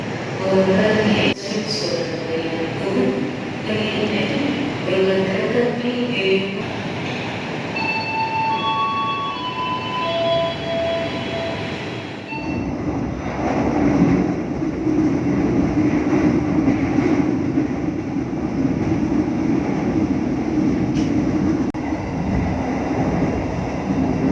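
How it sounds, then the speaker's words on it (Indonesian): Gaya Baru Malam Selatan economy train pulling into Klaten station at night, a steady rumbling rail noise from inside the carriage with a brief squeal and mechanical tones, then a louder low drone after the train comes to a stop. "kereta api Gaya Baru Malam Selatan telah tiba dan berhenti di stasiun Klaten"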